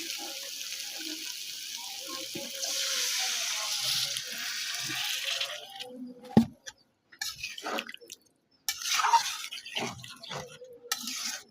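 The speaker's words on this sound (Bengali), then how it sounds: "এখন পানি দিয়ে দেবো।" Water gushes into a pot of braised broiler chicken and potatoes, a rushing pour that stops midway and gives way to a sharp knock, scattered clatter and some faint background voices.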